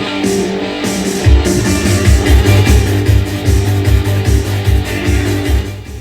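Music with a pulsing bass line and steady beat plays loudly through a Technics SU-VZ320 amplifier, continuous and close.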